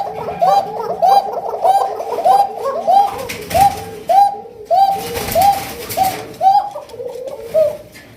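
Pigeons at a seller's loft of local and foreign breeds coo in a repeated, rolling series of throaty calls, close and clear, several coos following one another in an uneven rhythm.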